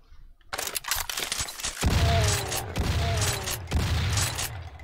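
Rapid gunfire from the video game DOOM: dense overlapping bursts of shots, with a short pause near the start and another mid-clip, loud and continuous.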